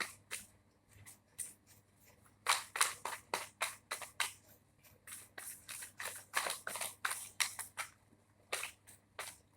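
Tarot cards being shuffled by hand, heard as a quiet, close series of crisp riffling bursts and flicks that come in uneven clusters, with short pauses between them and no voices.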